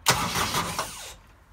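A diesel engine cranks as the key is turned while air is being bled from the fuel system, with a loud, close, churning starter burst lasting about a second before fading, no voices.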